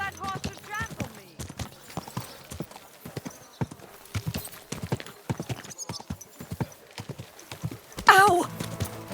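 Horse hooves clop in a rapid, uneven rhythm in the video game Kingdom Come Deliverance 2, with a short whinny near the end. Voices can be heard in the background.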